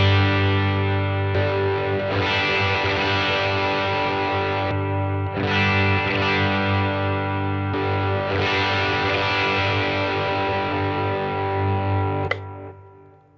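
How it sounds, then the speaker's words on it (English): Electric guitar run through a fuzz pedal into an overdrive pedal, loud and saturated, with sustained thick distorted chords that restart several times before cutting off at the end. "my fuzz pedal is hitting the front end of my overdrive pedal"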